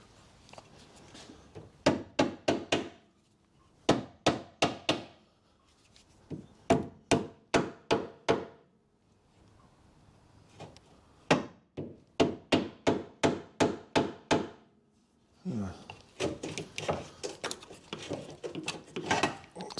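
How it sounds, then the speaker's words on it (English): Sharp metallic hammer taps drive a lower suspension arm into place on a 2010 Mazda 2 1.5 petrol, coming in quick bursts of several close, loud strikes separated by short pauses. "Grab my hammer and give that a little tap."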